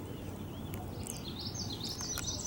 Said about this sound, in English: Lots of red-winged blackbird sounds.